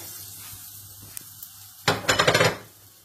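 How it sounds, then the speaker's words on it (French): Quiet hiss, then a burst of crackling and sputtering as caramel with butter bubbles in a saucepan while making caramel popcorn, a rapid cluster of sharp pops that fades off. "vous entendez crépiter"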